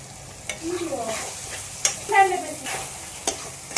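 Soya gravy ingredients sautéing in a little oil in a pan, a low sizzle under repeated scraping strokes of a spatula, with sharp clacks against the pan at irregular intervals.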